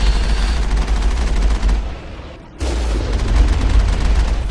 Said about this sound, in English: As another turret feels the force of the Mako and is blown to smithereens.